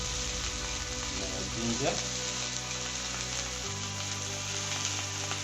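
Boneless chicken pan-frying with garlic and ginger gives a steady, close sizzle throughout, with a brief stirring scrape partway through and a slight shift in the hiss near the end.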